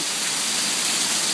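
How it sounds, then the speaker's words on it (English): Heavy rain at 3:30 in the morning in California, pouring onto and flooding a porch; a loud, dense, steady hiss of falling water, close and unbroken, with no voices. "There's like an inch of rain on our porch. This is all rain."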